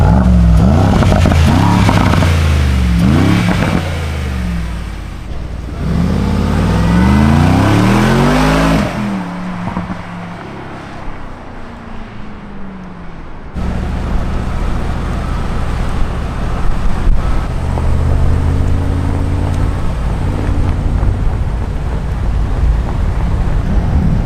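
A 2020 Rolls-Royce Cullinan accelerating hard, its engine rising in pitch through sweeping revs, loud and close, then settling into a steady heavy rumble with road noise; no talk.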